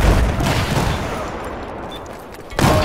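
Battlefield 4 gunfire: a loud burst of close shots at the start, then a dull rumbling decay and a second sharp blast near the end, with no voices.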